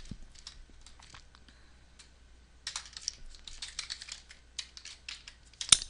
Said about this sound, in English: you can simply type in your username